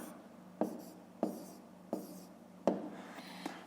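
Numbers written by hand with a pen or pencil on paper, four or five distinct scratchy strokes in an uneven rhythm, close and fairly quiet with no talking.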